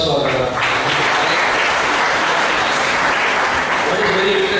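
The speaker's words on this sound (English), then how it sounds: "A round of applause for." Loud, sustained applause from an audience at a panel discussion on quality and its challenges, a dense wash of clapping close and steady throughout, with a brief voice at the very start.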